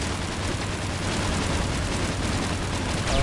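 A rocket blast in the Mass Effect Legendary Edition game erupts as a dense, roaring wall of noise, sustained and loud throughout with a slight swell at the end, with no talk over it.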